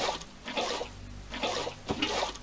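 Water pours and splashes in bursts as a container is filled in Minecraft, a close, steady rushing with short pauses between pours and no talk.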